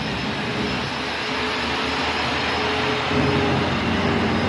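A Blade 230s RC helicopter hovers on its first flight, a loud continuous motor and rotor whine with a steady broadband roar, close to the listener, with no talk.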